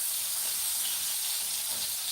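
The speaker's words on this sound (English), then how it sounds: "Fry it up in a pan." Food fries in a pan with a steady, bright sizzling hiss, close and unbroken, with no voices.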